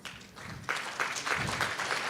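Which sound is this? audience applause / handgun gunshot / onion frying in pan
audience applause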